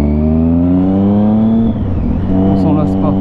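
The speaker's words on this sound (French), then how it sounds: "le son de cette moto, mon seigneur" A motorcycle on the road gives a loud, continuous engine drone with rich steady harmonics. It dips briefly partway through and then holds on, close to the recording point.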